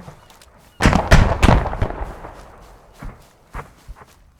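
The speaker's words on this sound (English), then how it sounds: "Now it's shelling those buildings where it believes, or where it last saw me." In the video game Arma 3, a vehicle's AI shells buildings: a burst of heavy, booming impacts arrives suddenly, followed by scattered thuds and sharper cracks that fade into sparser hits, loud and fairly close with no talking.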